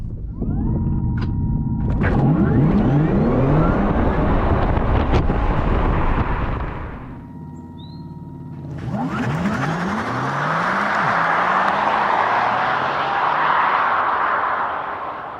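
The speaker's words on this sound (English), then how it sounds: "I hadn't quite heard the noise the Taycan makes. Have a listen to this." A Porsche Taycan electric car accelerates hard past the microphone in a launch start with a rising whine and heavy rumble, fades briefly, then surges again amid gusty wind noise.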